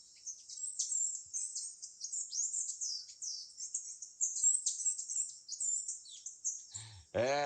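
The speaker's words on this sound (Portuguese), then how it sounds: "Esse é um dos sons emitidos por uma ave linda, colorida, chamada de saí-andorinha." Red-necked tanager (saí-andorinha) song: rapid, continuous high thin chirps and twittering notes in a steady stream, clear and close, ending with a brief burst of louder broadband sound.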